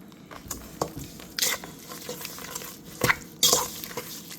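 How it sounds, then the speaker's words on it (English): A spoon works through sugars in a bowl, scraping and clinking against the sides in uneven bursts, with a few sharper knocks standing out close up and no talk. "I'm gonna use my spoon to just combine all the sugars."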